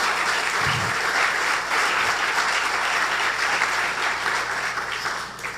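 A church congregation applauds steadily throughout a Sunday-morning service, a dense, continuous wash of clapping that stays loud and even before easing slightly at the end.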